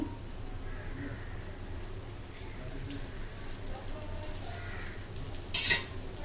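Dosa frying on a hot pan with a little oil gives a steady, soft sizzle close by, with a brief louder clatter near the end.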